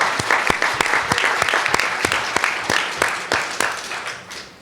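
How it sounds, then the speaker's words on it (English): An audience at a speaking event for a drug-free world applauds steadily with dense, crowded clapping that fades slightly toward the end. "And you can clap. Go ahead, let's clap."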